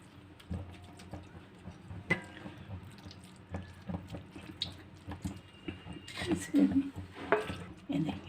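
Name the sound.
straining water from grated bottle gourd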